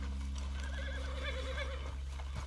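A horse neighs in Red Dead Redemption 2, a wavering whinny rising over a steady low rumble of game ambience, fairly close and clear.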